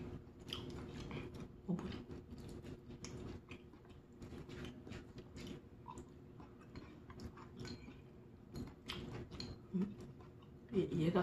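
Close-up chewing and biting of spicy seafood ramen-style noodles (Nongshim squid jjamppong rabokki) with rice cakes and shrimp, soft wet crunches and smacks repeating irregularly throughout, with light breathing and low background sound.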